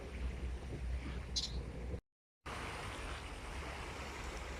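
Strong river current flowing steadily, a broad continuous rushing wash close by, briefly cut out for a moment midway before resuming at the same level.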